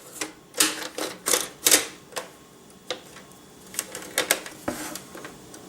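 Xyron adhesive machine parts clatter and snap as a small paper trimmer slides back into place. The sharp clicks and clacks arrive in quick, uneven bursts, close and fairly loud.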